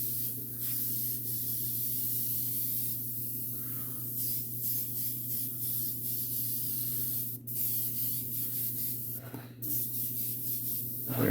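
Paint is misted lightly onto a custom 1/4-scale figure, a close continuous spray hiss with a steady compressor hum beneath and a few brief interruptions.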